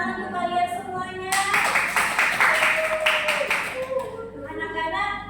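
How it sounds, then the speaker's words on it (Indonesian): A classroom of students claps hands together in a brief burst of applause lasting a couple of seconds, set between stretches of music or sustained tones. "Tepuk tangan untuk kalian semuanya."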